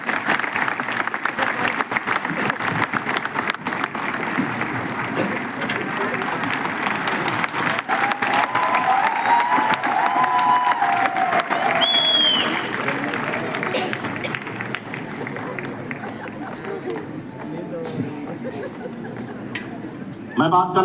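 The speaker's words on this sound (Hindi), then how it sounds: "अब मैं चाहता हूँ एक बार जोरदार तालियां बजा" Loud, sustained applause from an audience at an Indian gathering, dense clapping filling the whole stretch at steady strength and swelling again at the very end.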